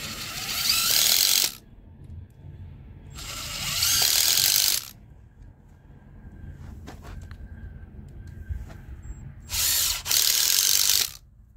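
A power drill drives screws into the tread of a cut tire during an earthship build, with three loud bursts of driving separated by quieter ratcheting and clicking handling sounds.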